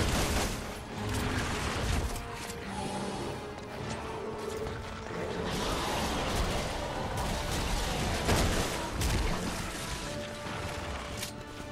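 Continuous dense gunfire and mechanical clatter fill a Resident Evil final boss fight against a helicopter, loud and unbroken throughout with no pauses.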